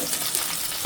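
Garlic frying in hot oil in a pan while cooking a Bengali catfish (magur) curry, a steady close sizzle with faint crackle throughout the short moment.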